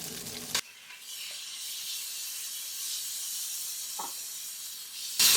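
Chicken fries with ginger garlic paste in about two tablespoons of oil, making a steady, close sizzling hiss. Sharp louder bursts of spattering open and close it.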